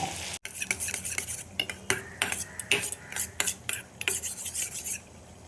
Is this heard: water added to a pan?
yes